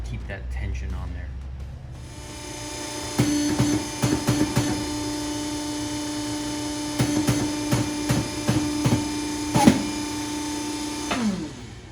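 A hydraulic press runs with a steady motor hum while pressing a Damascus steel billet, with a series of sharp metallic clanks and knocks through the middle; the hum starts after a brief quiet moment and stops near the end.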